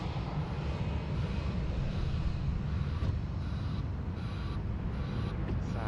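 Airliners landing at Sydney Airport into a southerly wind make a continuous, heavy jet roar that holds steady and fairly loud throughout, with no voices.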